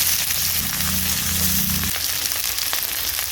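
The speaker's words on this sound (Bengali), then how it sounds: "এবার এই তেলে দিয়ে দিচ্ছি পেঁয়াজ কুচি," Chopped onions fry in hot oil that has just browned dried red chillies, giving a steady close sizzle and crackle throughout, with a low hum underneath for the first two seconds.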